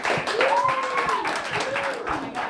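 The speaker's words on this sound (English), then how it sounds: "Everybody give her a great round of applause." An audience at an open music session applauds to welcome a performer, with steady clapping throughout and a few rising, whoop-like vocal calls over it.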